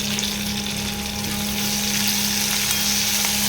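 Chopped onion with a pinch of salt fries in a pan, giving a loud, continuous sizzle with crackling bursts and a steady hum underneath, close and without talk.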